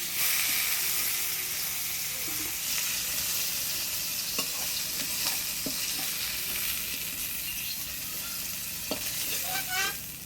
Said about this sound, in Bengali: মাছগুলো ভাজি নিই মাছটা ভাজি নিলাম